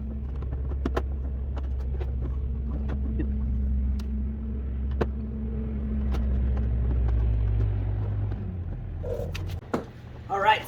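A Power Wheels ride-on toy upgraded to 24 volts, with stock plastic wheels and no throttle adjustment, drives around with a steady low electric motor rumble, then stops near the end.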